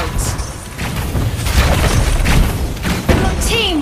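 A turret explodes in Mobile Legends, a dense rumbling boom mixed with crackling game effects and other battle noise under a continuous busy soundscape.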